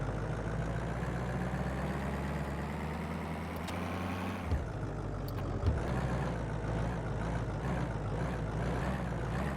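Truck engine in the My Garage video game drones steadily while towing a car, a constant low rumble with a brief shift midway and small knocks, no voices.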